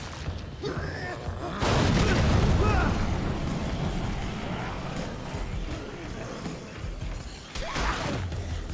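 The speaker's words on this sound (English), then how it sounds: "Wait, what's exploding?" Explosions from the Dead Rising 3 video game boom out in a loud, dense burst near the start, then rumble on steadily beneath game noise, with a second blast surging near the end.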